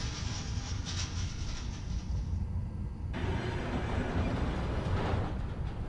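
A subway train rumbles past in Spider-Man: Miles Morales, a steady broadband roar of rails and carriages that shifts and swells midway, fairly close and with no voices.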